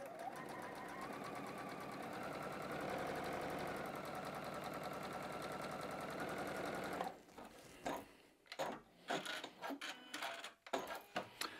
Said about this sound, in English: we're going to go ahead and sew on one first by going right with our needle